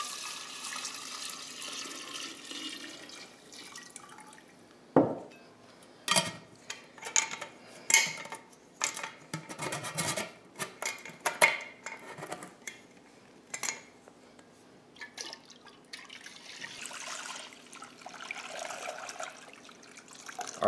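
Limoncello mixture of lemon liqueur and syrup is poured back into its bottle: a steady close trickle and splash of liquid, broken by several sharp glassy clinks and knocks in the middle stretch.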